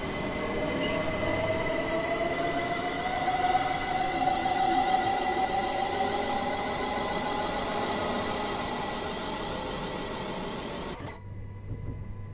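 A Class 66 diesel locomotive runs in the Train Sim World 4 game, giving a steady, loud rumble of wheels and engine with a faint squeal that cuts off near the end.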